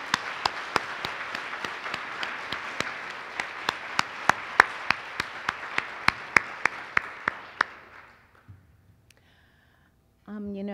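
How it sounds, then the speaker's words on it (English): Applause from the audience at a women-in-leadership public media conference workshop, with one sharp clap standing out in regular rhythm over the crowd for about eight seconds before it fades to near silence and someone starts speaking. "let's give her another round of applause"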